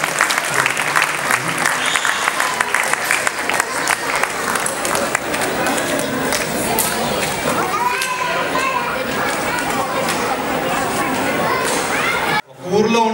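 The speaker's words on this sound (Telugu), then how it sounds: "తప్పట్లు అందరూ కొట్టండి." A crowd of children and adults at a school gathering claps loudly and continuously, with cheering voices and chatter mixed in, before it cuts off abruptly near the end.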